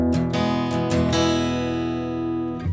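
Acoustic guitar playing the strummed and picked intro of a song, ringing chords with several quick pick attacks near the start and the notes sustaining to the end, close and clear with no talking.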